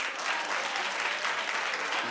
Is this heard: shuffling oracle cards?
no